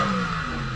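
A BMW Touring wagon with an M52 inline-six engine, being set up for drifting, holds a steady loud rev close by, engine drone continuous with no talking.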